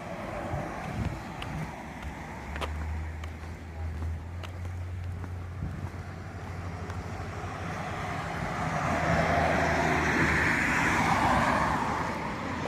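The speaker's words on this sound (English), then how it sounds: "Quite a bit of traffic." Road traffic crosses near a rail trail south of Kinderhook, New York, a steady broadband roar of vehicles building as one passes close, with wind noise on the microphone.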